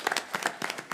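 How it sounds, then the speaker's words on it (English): Scattered hand claps sound at a city council meeting, a few sharp, uneven claps in quick succession from a small group. "Let's give him a round of applause."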